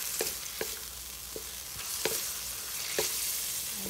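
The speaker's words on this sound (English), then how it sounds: "At i-gisa natin muna itong tomato." Tomato sautés in a hot pan with a continuous sizzle, punctuated by several sharp spoon taps and scrapes at irregular intervals, heard up close without any speech.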